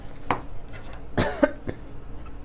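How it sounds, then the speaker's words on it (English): A few sharp coughs, one at the start and a louder cluster near the middle, close to the mic with a quiet background. "the coughing right as we're talking about this conversation"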